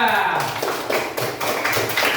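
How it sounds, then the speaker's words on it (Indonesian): Classroom of students clapping for a group of classmates, a dense run of handclaps lasting about two seconds with voices mixed in. "Berikan tepuk tangan yang meriah untuk kelompok 2."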